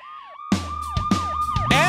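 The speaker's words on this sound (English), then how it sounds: "Ambulance!" A cartoon ambulance siren wails in repeated falling-and-rising swoops, loud and close, over a low rumbling engine.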